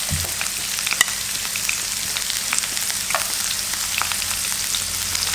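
Chopped medium onion hitting hot oil while making upma, a steady close sizzle and crackle of frying with a few small pops and stirring scrapes throughout.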